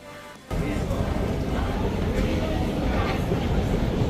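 Steady rumble of a London Underground tube train running, a loud continuous low roar that kicks in after a brief quieter moment and holds throughout.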